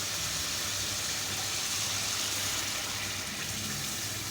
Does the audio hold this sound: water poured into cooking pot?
yes